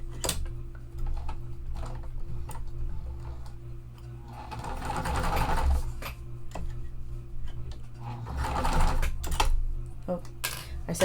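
Home sewing machine stitching quilt pieces of cotton fabric placed right sides together, two long steady whirring runs of stitching separated by quieter pauses, up close with a constant low hum underneath.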